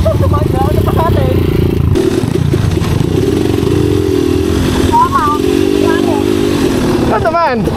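A nearby trail motorcycle's engine drones loud and steady with a rough, buzzing idle on the Calumpang trail, while people talk over it throughout.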